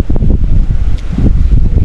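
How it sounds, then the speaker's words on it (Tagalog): Cold wind blowing on the summit of Mt. Malinao, a loud, steady rush buffeting the microphone with gusty low rumbles and no talk. "So ang sarap ng hangin, malamig."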